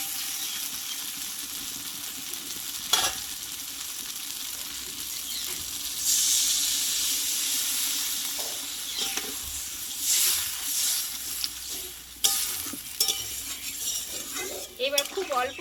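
Water added to fried spice masala with potol in a pan, a loud continuous sizzle and hiss that flares up and stays close, with occasional clinks and scrapes of utensils against the pot.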